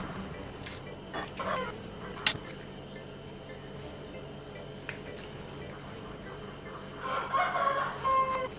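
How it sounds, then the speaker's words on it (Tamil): A rooster crows outdoors, somewhat distant, near the end of an otherwise quiet stretch with faint background noise and a few soft knocks. "கோழி ஒன்று வெளியே கத்திக்கிட்டே இருக்குது."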